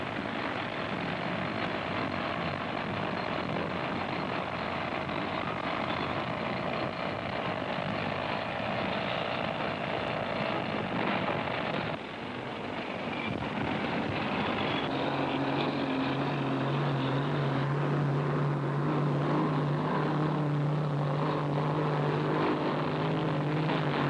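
Heavy trucks hauling rock at the Tignes dam construction site, a continuous loud engine rumble and rolling mechanical roar throughout, with a steady low drone emerging in the second half as a vehicle draws close.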